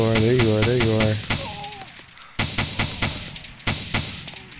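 Gunfire from a gun in the Arma 2 Wasteland military game: sharp, loud shots in short bursts and single cracks over about three seconds, following a voice at the start.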